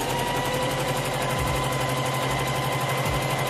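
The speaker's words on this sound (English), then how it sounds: "I'm now just going to sew my lining pieces together" A sewing machine stitches denim tote bag lining pieces together, running in a steady, even hum with rhythmic needle chatter close by and no voices throughout.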